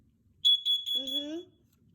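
A carbon monoxide alarm sounds during a test with a loud, piercing beep that repeats several times in quick pulses, and a voice speaks briefly over its last part.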